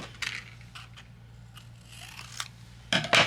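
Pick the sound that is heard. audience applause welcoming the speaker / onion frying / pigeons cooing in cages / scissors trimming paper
scissors trimming paper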